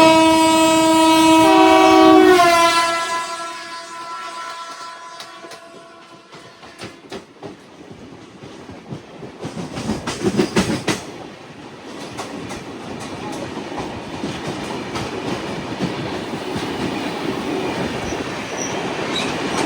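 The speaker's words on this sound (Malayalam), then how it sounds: "വാസ്കോന്ന് ഡൽഹിക്ക് വന്ന ഗോവ എക്സ്പ്രസ് ആണ് ഇപ്പം അങ്ങോട്ട് പോയത് കേട്ടോ." The Goa Express passenger train from Vasco to Delhi passes near Bhusaval, opening with loud train horn blasts, then wheels squealing and a steady rumble of clattering wagons that swells and fades, with no talk.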